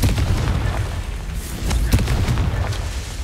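Confringo fire spell blasts in the video game Hogwarts Legacy: a series of loud, booming bursts with rumbling low end, several impacts in quick succession over a few seconds.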